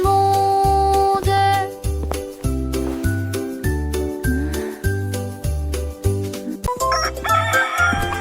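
A cartoon rooster crows within a French children's song, over a steady rhythmic accompaniment of repeated bass notes and bright chiming tones.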